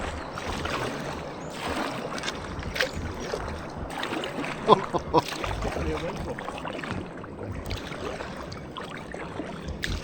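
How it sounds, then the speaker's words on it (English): Paddle strokes and water splash from a Gumotex Swing inflatable kayak moving along a river, a steady wash of water noise with occasional louder splashes, close and continuous, with some faint voice. "So with a bit of paddling, let's just roughly see what speed we can get up to."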